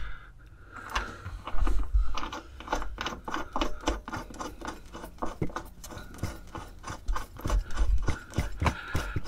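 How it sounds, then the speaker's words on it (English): Existing bolts coated in thread lock being wound back into a van seat base during a budget single-seat conversion, heard as a steady series of close, rhythmic ratcheting and scraping clicks with no talking. "I'm just going to put a little bit of thread lock on these existing bolts and then wind those back in."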